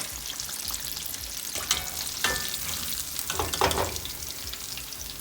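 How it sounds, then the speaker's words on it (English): Spicy southern catfish nuggets deep fry in hot oil, a steady crackling sizzle with sharper bursts as pieces are stirred or moved, fairly quiet and close, without speech. "But you finished frying the fish."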